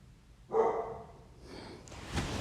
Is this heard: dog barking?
yes